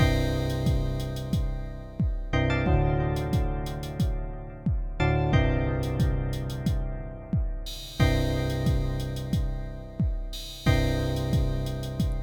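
An Elektron Model:Cycles groovebox loops an uncompressed drum pattern of deep booming kicks, ticking hi-hats and bursts of noisy hits, repeating steadily and clearly, with no voices.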